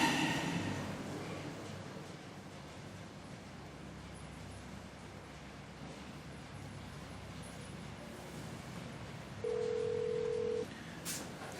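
A telephone call is placed indoors: dialing tones, then a steady ringing tone near the end, over a constant background hum.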